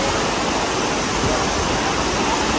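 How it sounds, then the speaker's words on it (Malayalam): Water sprayed onto female elephants and calves at the Pinnawala Elephant Orphanage in Sri Lanka: a constant, loud, hissing gush close at hand with no break. "അപ്പോൾ അതിന് വെള്ളം അടിച്ചു കൊടുക്കുകയാണ്"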